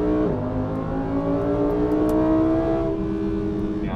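A Lamborghini Huracan EVO with a naturally aspirated, rear-mounted engine and an exhaust close behind it is under acceleration. A loud, continuous engine drone with strong tonal harmonics holds and rises slightly, with no talk over it.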